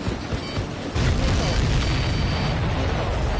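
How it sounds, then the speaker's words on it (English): An explosion in the aerial combat video game Ace Combat 7 erupts as a sudden deep boom about a second in, followed by a sustained heavy roar of fire and engine noise, loud and close. "Did you see that explosion?"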